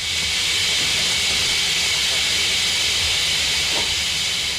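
Continuous loud broadband hiss, like steam venting, at the Hospedaria dos Imigrantes train station in São Paulo, steady throughout with faint low rumble beneath.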